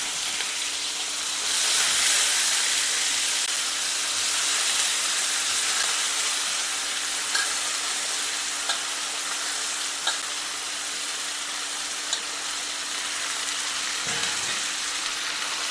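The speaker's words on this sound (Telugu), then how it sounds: "కర్రీ లీవ్స్ కొంచెం వేగిన తర్వాత వంకాయలు" Curry leaves and brinjal fry in a pan with a steady, bright sizzle that fills the whole stretch, plus occasional faint clicks and stirring taps, close and even throughout.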